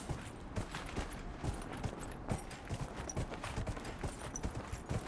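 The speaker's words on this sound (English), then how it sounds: "There's no difference in speed in the running and the sprinting of the horses." Horse hooves gallop in Dragon Age: Inquisition, a rapid, steady clip-clop of several hoofbeats running throughout at moderate loudness with no talk over it.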